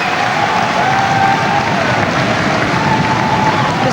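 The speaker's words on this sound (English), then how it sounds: "Listen to that crowd, the atmosphere in this place." A boxing crowd at a Colin McMillan fight roars and applauds in a continuous, loud wash of cheering and clapping with a faint higher voice threading through.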